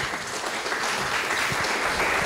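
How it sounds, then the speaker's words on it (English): Lecture audience applauds a visiting speaker after his introduction, a dense, steady wash of clapping that holds at even loudness throughout, with no talk over it. "We want to welcome you with applause."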